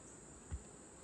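A steady, close hum of honey bees buzzing around colonies in the middle of robbing, a continuous insect drone with one brief low bump, no voices.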